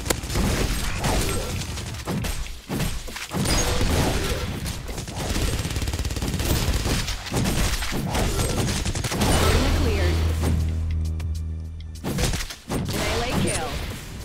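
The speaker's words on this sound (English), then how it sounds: "Shotgun!" Shotgun blasts in a fast-paced video game firefight, loud repeated booming shots amid dense continuous combat noise, with a player talking over the action.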